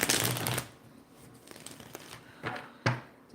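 Tarot cards are shuffled in quick riffling bursts, a long crisp run at the start followed by shorter flicks and a couple of sharp slaps, close and quiet with no speech.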